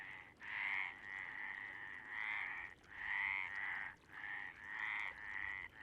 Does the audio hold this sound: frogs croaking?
yes